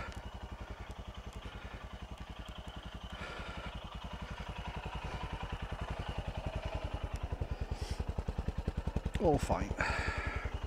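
A Royal Enfield Himalayan motorcycle engine idles with a steady, rapid single-cylinder thump, close and loud throughout, while someone talks briefly over it.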